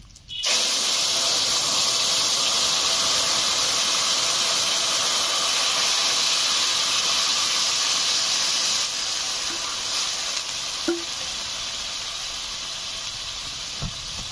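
Fish curry broth for a Bengali rui macher jhol with bitter gourd and potato hits a hot pan, bursting into a loud, continuous steaming hiss that eases slightly toward the end, with a faint clink or two.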